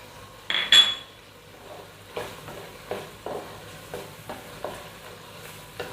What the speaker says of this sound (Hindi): ये हम इसमें मिर्चें डाल देंगे, 6 अदद साबित मिर्च